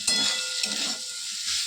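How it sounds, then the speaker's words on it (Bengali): Taro stems frying in oil in a pan over a low flame, giving a close, steady hissing sizzle with soft scraping as they are stirred. "একদম গ্যাসটা লো ফ্লেম করে দিয়েছি, ভালোভাবে নাড়তে হবে যাতে কচুটা একদম সিদ্ধ হয়ে যায়।"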